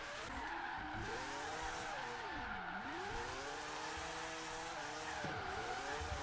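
A 4-rotor Mazda Savanna RX-7 FC3S engine in Forza Horizon 3 wails and swoops in pitch as tires squeal through a long drift, continuous and loud, with game-like engine tones throughout.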